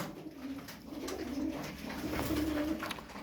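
Several pigeons coo softly and repeatedly, overlapping low throaty calls close by, with no talking.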